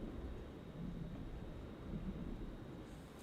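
Rumbling storm in a video game, a low, steady wash of thunder and rain-like noise, quiet and distant, with no talk.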